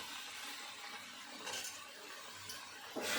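Fish head and spinach gravy being stirred in a pan, soft close scraping and light clinks of a utensil over a faint sizzle, with a sharper scrape at the end.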